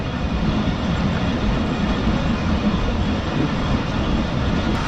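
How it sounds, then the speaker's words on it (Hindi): Karachi Express passenger train slowing toward a stop, a steady low rumble of rolling stock heard from on board, continuous and fairly loud without a clear brake squeal. "ट्रेन जो है हमारी वो रुक रही है इस वक्त"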